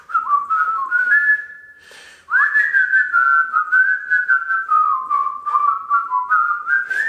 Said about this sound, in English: I was going to start whistling The Great Escape